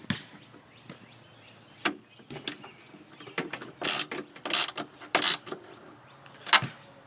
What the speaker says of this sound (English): tighten them both down with the ratchet and the socket